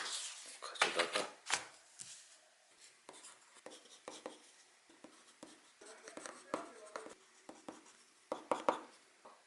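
A pen writes Korean letters on paper, close scratching strokes in irregular bursts with short pauses between characters, faint background voice present.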